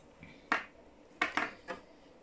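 A cuticle tool scrapes across a glass palette in several short, sharp scratches: one near the start, a close pair in the middle and a softer one after, faint and isolated against a quiet background.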